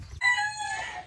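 A hen in a coop gives a single short, close call, a bright rising cluck-like squawk with nothing else around it.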